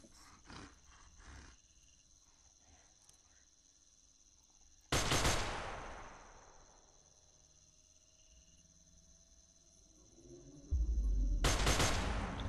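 Gunfire in the video game Congo: a couple of sharp bursts, with a loud blast decaying into a ringing tail and another burst at the end, over a steady high electronic hum and quiet background.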